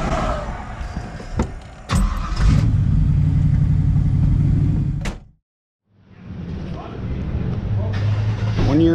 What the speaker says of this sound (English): Start it back up.